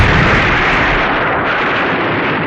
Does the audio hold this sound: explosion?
yes